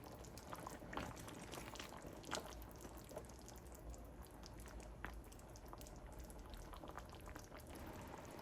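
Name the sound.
Peshawari beef simmering in hot water, covered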